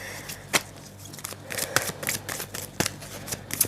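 Tarot cards are spread out by hand, giving soft sliding rustles and several crisp snaps and flicks of card stock close by.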